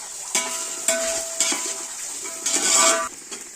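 Onions with a little salt sauté in a pan for chicken dum biryani, a soft steady sizzle broken by several sharp stirring scrapes and clinks of a spoon against the pan, close and moderately quiet.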